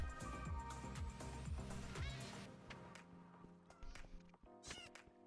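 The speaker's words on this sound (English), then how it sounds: "I know, it's just a kitten." A kitten meows in Minecraft Bedrock Edition, its small game-sound mews mixed into busy in-game noise and background music across a few seconds.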